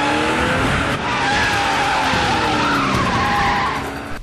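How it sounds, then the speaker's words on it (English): A speeding car skids hard in a TV drama chase, tires squealing loudly across the whole stretch over a roaring engine, up close and with no voices. "All the speeding cars in this episode."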